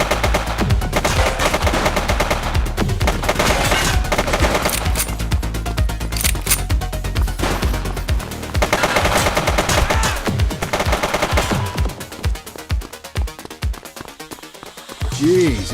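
Rapid gunfire from a police shootout in the video game The Precinct, dense automatic bursts and single shots crackling near and loud across most of the stretch, with shouted voices mixed in and a thinning of shots toward the end.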